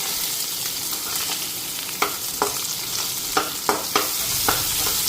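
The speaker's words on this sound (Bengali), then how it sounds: "আর পেঁয়াজটা ফ্রাই করুন।" Onion frying in oil in a pan, a steady close sizzle with occasional sharp stirring scrapes and clicks from a utensil, no voices.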